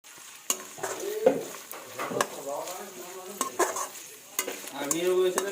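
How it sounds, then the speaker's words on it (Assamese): Cut chicken meat frying in a pan with golden-browned onions for chowmein, a close sizzle under repeated metal stirring and scraping clanks, with some faint voice now and then. "এতিয়া মাংসখিনি অলপ ভাজি ল'ম।"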